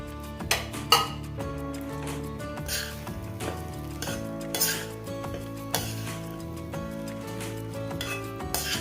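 Semolina stirred and roasted in ghee in a pan over a medium flame, with repeated metallic spoon scrapes and clinks against the pan above a faint steady background and soft cooking noise.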